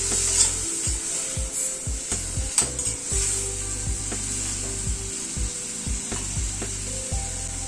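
Spices sautéing with vegetable stems and potato in a pan: a steady close sizzle with repeated scraping and stirring strokes of a utensil against the pan, alone without talk.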